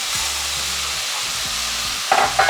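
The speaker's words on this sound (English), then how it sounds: "Stir that around a bit. And add in the 2 cups of dried orzo" Minced garlic and dried orzo being stirred in a hot pan give a close, steady sizzle and hiss, with a couple of light scraping clinks near the end and no voices.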